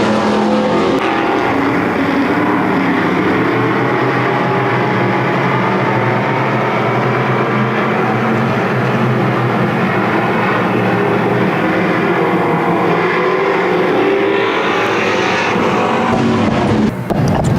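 Race cars roar around an oval track in a continuous, loud engine drone, the pack passing close with a steady high-revving whine and no speech heard.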